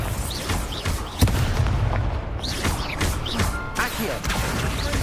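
A Confringo blasting spell goes off amid busy Hogwarts Legacy combat, with a dense mix of booming impacts, crashes and mechanical clatter, including one sharp hit partway through.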